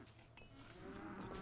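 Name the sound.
cows mooing in the video game RimWorld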